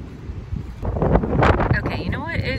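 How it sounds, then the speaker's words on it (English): Strong wind gusting outdoors, buffeting the microphone with loud low rumbling that swells and fades over a few seconds, along with a person's voice. "It is just way too windy."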